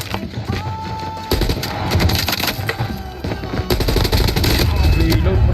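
Rapid bursts of automatic gunfire in Call of Duty Mobile, sharp repeated cracks in clusters across the whole stretch, loud and close, with a player talking underneath.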